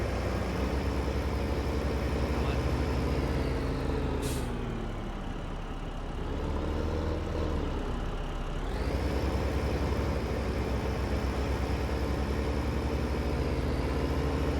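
Tractor engine in Farming Simulator 15, a loud, continuous low diesel drone with a steady pitch, dipping briefly midway before revving back up, with a short hiss near the start.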